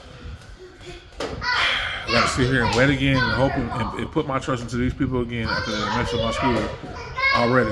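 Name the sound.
child playing noisily in the background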